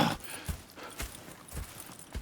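Horse hooves clip-clopping in the Red Dead Redemption 2 video game, a faint, unhurried walking rhythm of soft thuds spaced about half a second apart.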